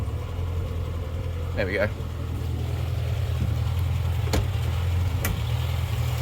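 A ratrod Morris Minor's engine idles steadily with a low, even rumble close by, one short spoken remark heard over it.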